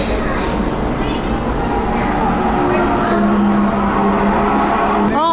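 Engines of go-karts on the onboard racetrack of the Norwegian Bliss cruise ship whine and rise in pitch steadily beneath people talking, with a rising sweep near the end.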